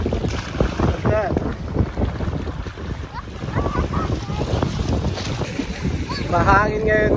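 Strong wind buffets the microphone on SandPiper Beach in St. Laurent, Manitoba, with rumbling gusts and wavy surf in the background while people talk over it.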